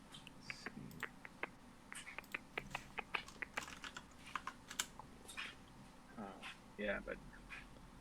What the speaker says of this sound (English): That way I can start typing information as we go.